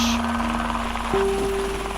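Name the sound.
noisy helicopter flight over the Greenland ice sheet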